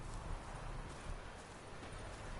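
Horse hooves clip-clop steadily in The Witcher 3 on PS4, a dense, continuous galloping patter under a constant game ambience.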